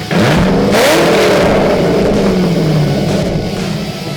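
A 2007 Corvette with an LSXR engine, Texas Speed X-pipe, Billy Boat exhaust and ATI Super damper revs loudly and close, its deep growl rising then gradually settling across the stretch.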